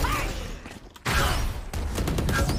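Rocket launcher shot and blast in the tactical shooter Valorant: a loud, dense burst of booming gunfire-like noise that drops briefly, then resumes with heavy rumbling and repeated sharp hits.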